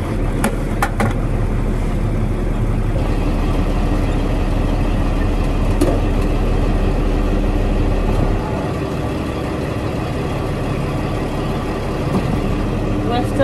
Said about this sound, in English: we're gonna hop in the 4240 here and get to heading to the gym. So we're gonna go ahead and fire her up.